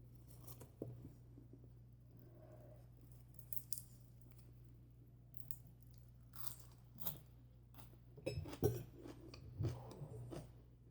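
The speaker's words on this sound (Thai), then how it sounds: "หนูกินเสียงดังหนูก็ขออภัยด้วเจ้า" Loud, close chewing and crunching while eating a Thai crab noodle salad (khanom chin yam pu), with scattered bites and crisp clicks over a steady low hum, no talking.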